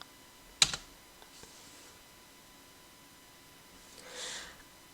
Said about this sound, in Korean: 키보드에서 입력하시면 되겠습니다.